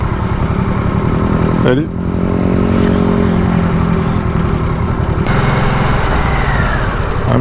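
A 2022 Harley-Davidson Nightster motorcycle engine runs steadily throughout, a loud, close low throb that rises briefly near the start, with a short spoken greeting over it.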